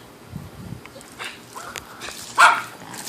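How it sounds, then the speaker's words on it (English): A dog barks a few times in a backyard outdoors, fairly close, one sharp louder bark standing out over faint background noise and light footsteps. "Dogs barking like crazy."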